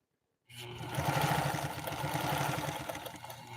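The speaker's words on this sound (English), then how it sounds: "now we're doing a zigzag going down. This will be our last straight utility type stitch with this 1955 PFAFF 230" A 1955 PFAFF 230 sewing machine with a 1.3 amp motor runs a zigzag stitch, starting after a brief silence into a steady, close mechanical whir with a fast rhythmic needle clatter that holds to the end.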